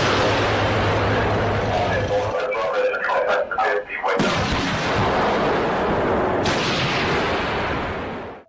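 The main gun of a 62-tonne British Challenger 2 tank fires with heavy booming blasts. A dense, loud rumble of gunfire and explosions carries on throughout.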